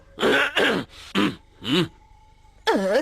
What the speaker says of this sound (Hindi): खांसी है तो दवा खाओ।